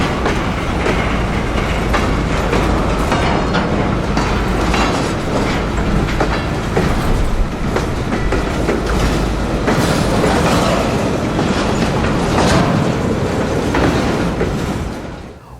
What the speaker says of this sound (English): This is a pretty long train as locals go, including a big cut of loaded sand hoppers out of the mine at Davenport.